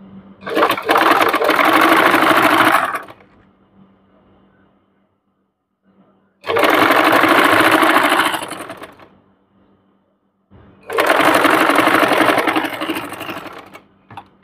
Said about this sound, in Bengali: এখান থেকে একটা উপরে চাপ সেলাই দিয়ে নিব একদম চিকন করে।